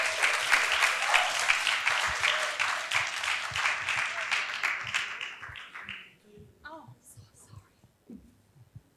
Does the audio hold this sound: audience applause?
yes